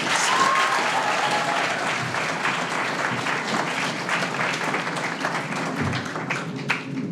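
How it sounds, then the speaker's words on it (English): Ceremony audience gives award winners a long round of applause, loud dense clapping held steady throughout with only faint voices beneath. "Can we have another round of applause for all our winners today?"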